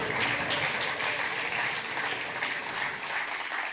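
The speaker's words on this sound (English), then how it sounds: "Please give a round of applause to the captains that joined us as well on the screen" An audience at the Hyundai A-League 2015/16 season launch applauds the team captains, a sustained, fairly loud wash of crowd clapping that carries on without a break.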